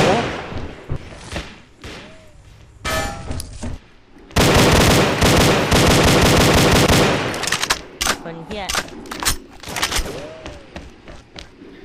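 Video game gunfire rattles in rapid automatic bursts with scattered single shots and thuds, building to a long, loud, unbroken volley midway before breaking back into shorter bursts.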